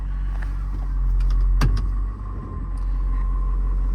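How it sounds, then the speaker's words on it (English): Electric power window motor in a 2021 Ford F550 service truck, a brief near whir with a soft thump and rumble inside the cab, heard alone without talk. "power locks, power windows"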